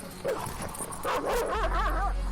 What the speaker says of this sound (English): All the wild dogs notice Yash.